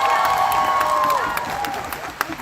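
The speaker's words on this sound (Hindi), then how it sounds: "थोड़ा एक सेकंड थोड़ा हो जाए तालियों के साथ" Audience clapping and cheering at a live fan tour event with actors, a dense wash of applause that stays loud for a moment and then gradually thins out.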